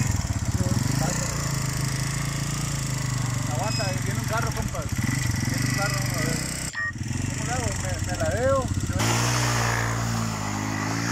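A motorcycle engine idles steadily, then revs up and down in several rising bursts as a learner rider works the clutch and throttle, close by and loud, with people talking over it throughout.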